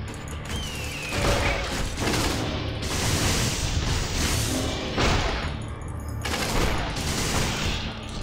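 Continuous loud gunfire and thudding impacts from shooting zombies in the video game Torchlight 2, a dense, steady barrage with heavy hits throughout.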